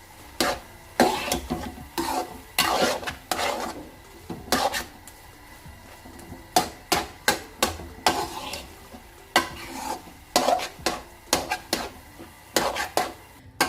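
Carrot halwa mixed with khoya in a pan, a rhythmic run of close scraping strokes with a faint sizzle underneath, repeating steadily over the whole stretch.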